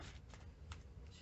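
Cards riffled and shuffled in a few quick bursts of papery flutter, close by, with no talking.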